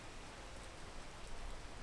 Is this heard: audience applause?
no